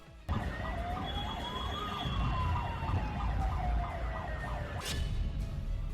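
On the Dwarka Expressway, a car's siren kicks in abruptly with a fast warbling yelp over road noise, holding steady for several seconds before a brief loud burst near the end.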